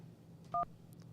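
A single short telephone keypad tone from a button press, a clear dual-pitch beep about a tenth of a second long over a low steady hum.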